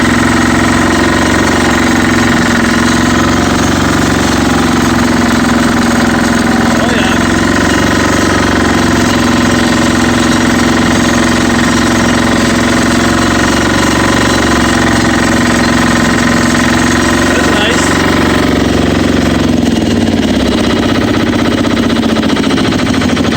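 A Yanmar C10R crawler's small diesel engine runs loud and close for the whole stretch, a steady rough clattering drone while the machine tracks, shifting slightly near the end.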